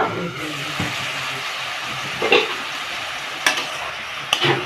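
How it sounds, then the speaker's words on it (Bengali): Mixed vegetables stirred and frying in a pan for semolina pulao, with a steady close sizzle and a few sharper scraping clicks of the spatula, no voices. "আর একটু নাড়াচাড়া করে আমি এই সবজিগুলো ভালো করে ভেজে নিব"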